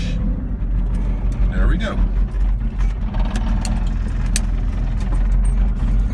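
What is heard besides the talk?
small manual car pulling away in first gear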